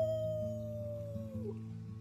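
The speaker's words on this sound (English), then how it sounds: "Let's start with our team howl." Characters in the video game Life is Strange 2 howl together as a team: a sustained howl slowly sliding downward with low droning layers beneath, fairly quiet and unbroken.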